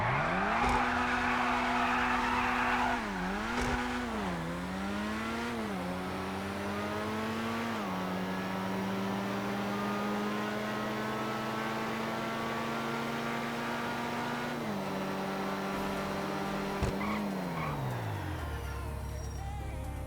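Grotti and Pegassi supercars in GTA 5 racing: a high engine whine climbing through gear shifts, sustained revving at speed with tire squeal and skidding early on, loud and close throughout.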